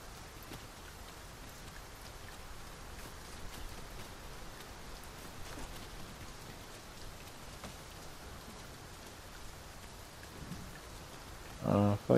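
Steady rain falls throughout in the Dragon's Dogma 2 video game, a dense, even patter without pauses, with a short character voice line near the end.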